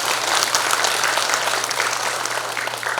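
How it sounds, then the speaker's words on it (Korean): An audience at a Democratic Party delegates' convention bursts into loud, sustained clapping that continues evenly for a few seconds. "다시 한번 큰 박수 부탁드리겠습니다"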